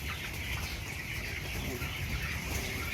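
Twenty-day-old broiler chickens on a farm cluck and chirp steadily as a dense, continuous flock chorus, with occasional wing flaps and no talking.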